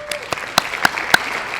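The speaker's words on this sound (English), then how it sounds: "And a great big round of applause, please, for UHNM and the NHS everywhere." Applause at a college celebration awards event, honouring UHNM and the NHS: a short, sparse burst of a few distinct claps ringing out in sequence, light and spaced rather than a full crowd roar.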